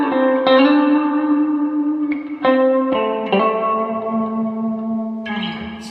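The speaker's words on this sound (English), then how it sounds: "So I'm going to crank the reverb up on this" Electric guitar notes and chords ring out through a Fender Deluxe VM amp, drenched in heavy reverb that lets each note hang and blur into the next.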